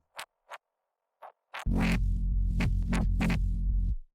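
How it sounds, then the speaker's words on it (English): A few short crackly hits open, then a deep bass note with vinyl distortion drones for about two seconds with gritty, crunchy texture before cutting off. "I've added a bit of vinyl distortion here"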